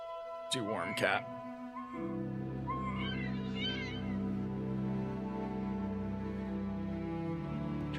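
In the video game Caribbean Legend, a cat gives two quick, rising meows, close and clear, over a steady drone of background music.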